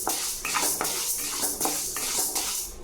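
Lentils dry-roasting in a pan over medium heat give a steady, close scraping rattle, with repeated stirring strokes in a regular rhythm and no talking.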